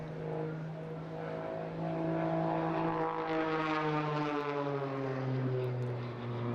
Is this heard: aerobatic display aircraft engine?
yes